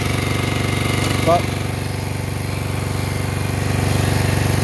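A 1968 Moto Guzzi V7 700 motorcycle engine idles slightly high, with a steady, close, rhythmic low pulsing, and someone speaks a single brief word over it.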